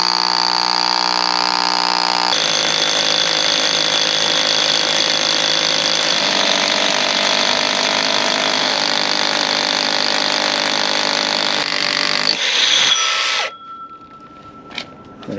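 A loud hammer drill on hammer action grinds steadily for about thirteen seconds through a wall, its pitch shifting as it bores through, then cuts off into quiet with faint clicks.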